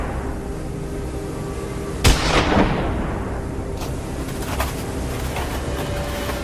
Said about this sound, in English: The gunshot rang out sharply, a bullet flew out in the blink of an eye